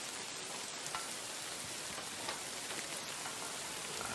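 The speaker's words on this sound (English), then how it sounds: "It is raining again? What kind of land is this?" Rain falls steadily in the medieval game Kingdom Come: Deliverance II, a dense even hiss of drops with scattered sharper patters, continuous and fairly soft, with no one speaking.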